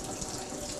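Hot water pours into a cup in a kitchen, a steady, faint splashing stream with a continuous hiss and no voices.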